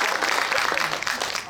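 Audience applause at a film society talk in a cinema hall, a brief dense burst of many hands clapping, steady and fairly loud.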